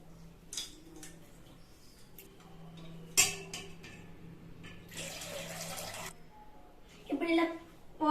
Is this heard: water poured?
yes